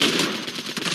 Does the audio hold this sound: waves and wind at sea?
no